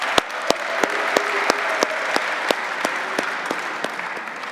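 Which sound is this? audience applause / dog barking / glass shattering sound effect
audience applause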